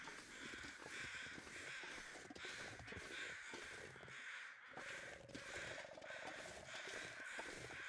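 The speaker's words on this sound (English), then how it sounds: "There are so many crows around here." A flock of crows keeps up a near-continuous racket of overlapping caws in The Long Dark's snowy backcountry, loud and close over constant wind, with no voices.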